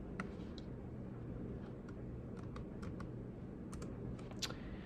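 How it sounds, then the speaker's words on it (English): Keys clatter on a computer keyboard as text is typed, a quiet run of light, irregular clicks set against a faint background hum. "So we're going to type in, let's say, Noel."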